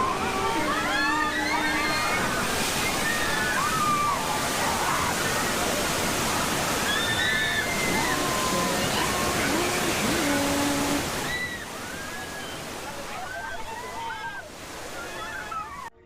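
Rushing, sloshing water floods through the water main break effect on the Universal Studios Earthquake ride, a steady roar of pouring water under crowd chatter and bright squeals before it eases slightly near the end.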